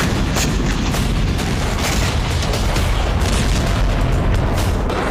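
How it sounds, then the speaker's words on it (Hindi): Explosions from Russian missile and artillery strikes on Ukraine, a dense, continuous barrage of booms and blasts rumbling together with no pauses, loud and sustained throughout. "रूस में हुए एक एक धमाकों के बदले कई धमाके।"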